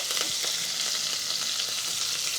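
Curry leaves, dried red chillies and green chillies fry in hot oil for a spinach dal, giving a dense, continuous close-up crackling sizzle throughout with no speech.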